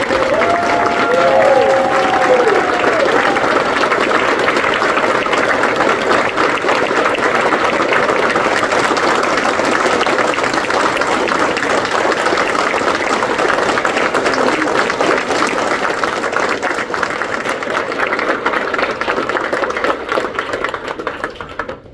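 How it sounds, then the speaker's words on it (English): A standing audience at an Eddie Guerrero day event in El Paso breaks into sustained, loud applause, a thick continuous roar of clapping with some crowd noise and a few faint voices near the start, tapering slightly toward the end. "we're going to all stand and give you a round of applause"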